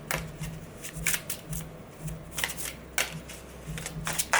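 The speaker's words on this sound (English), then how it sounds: "I just want one card. Just one card for Harry." Tarot cards being shuffled in quick riffling bursts, close and crisp, with soft papery flutters and brief pauses between rounds, no talking.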